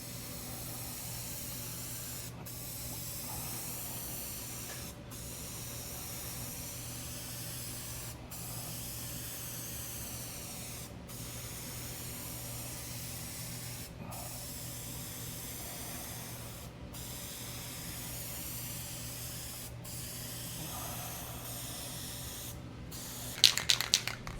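Spray gun laying heavy coats of paint on a 1972 El Camino, a continuous close hiss broken by short regular pauses as each pass ends, with a few sharp clicks near the end.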